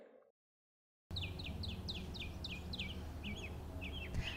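Birds at a Brownsville campus in the Rio Grande Valley give a run of quick, repeated chirps. They sound clear and fairly close over steady outdoor background noise, and the clip opens with a brief cut-off snippet before the calls start.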